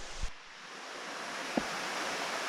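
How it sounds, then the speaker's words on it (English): Steady broadband roar of Stinging Fork Falls, a waterfall, heard close and continuous, with a couple of brief low thumps near the start and midway. "Finally made it down to the waterfall here."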